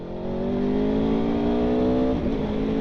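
A 2021 Aprilia Tuono V4 Factory 1100 motorcycle engine drones loud and steady while riding, then a quick upshift near the end brings a brief dip and a crackling burble of exhaust pops before the engine note picks back up.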